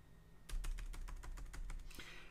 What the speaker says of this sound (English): it's because I'm typing all these numbers in on a keyboard